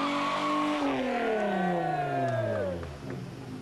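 VW Golf GTI cars at the Wörthersee GTI meeting driving past one after another, engines revving loudly with rising and falling pitch as they pass close by, a steady stream of motor noise.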